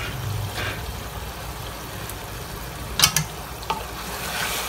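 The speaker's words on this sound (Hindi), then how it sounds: "देखिए हमारा चिकन जो है वो अच्छी तरह से भुन चुका है और चारों तरफ से तेल भी नज़र आ रहा है" Soft, continuous sizzle of chicken frying in oil in a pot, with a few sharper stirring clinks and bubbling pops near the middle, close but fairly quiet.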